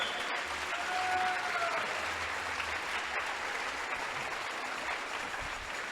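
A church congregation keeps up sustained, even applause, a dense wash of clapping heard alone without speech, holding steady before tapering slightly at the end.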